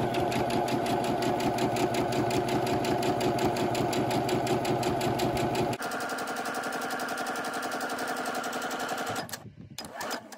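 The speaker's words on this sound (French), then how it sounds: "je vais faire une couture à gauche ou une couture à droite" A sewing machine stitches a seam in fabric for a small compartment case, a fast, loud, rhythmic clatter that shifts pace midway and slows to a stop near the end.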